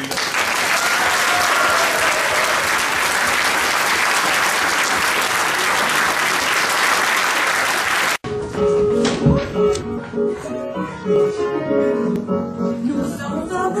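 Sustained applause from a crowd fills most of the stretch, dense and steady, then cuts abruptly to other sounds with music.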